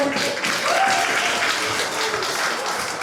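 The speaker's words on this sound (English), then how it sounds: "Please give them another round of applause, everyone." Audience applause for the speakers at a debate grand final, a sustained, even roar of many people clapping in a hall, loud and unbroken, with faint crowd murmur mixed in.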